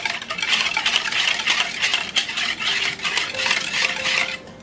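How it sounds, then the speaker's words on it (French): A metal whisk stirs in a bowl, mixing dry ingredients with brown sugar for Christmas gingerbread; the clinking, scraping strokes are close, rapid and rhythmic, with no voices. "Je tourne toujours avec mon fouet métallique."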